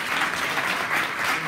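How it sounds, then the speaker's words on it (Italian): Brief burst of audience applause at an Italian public meeting on mosques and legality, steady and dense clapping from a roomful of people, moderately loud with no talk. "Facciamone un altro applauso a Luca"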